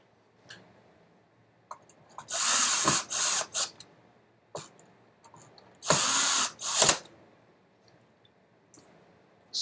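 A power drill drives screws into the wooden base of a La-Z-Boy rocker in two loud whirring runs of a second or so each, with clicks and handling noises between them, close and without talk.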